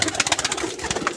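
High-flyer pigeons offered for sale in Punjab coo and flutter in a brief, close, continuous burst.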